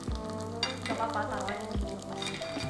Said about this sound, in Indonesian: Nah, kita goreng pempeknya.